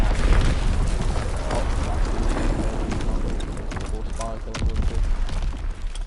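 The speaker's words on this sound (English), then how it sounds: "Enemy bomb incoming. Get to cover." Enemy artillery bombs exploding in the World War II shooter Call of Duty WW2: a loud, dense, continuous din of booms and rumbling blasts with crackling gunfire, with a voice faintly mixed in.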